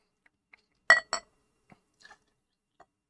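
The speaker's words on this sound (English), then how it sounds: "I always love a glass bottle." Glass beer bottle handled at close range, two sharp clinks followed by a few faint small taps and clicks in otherwise quiet surroundings, with no voices.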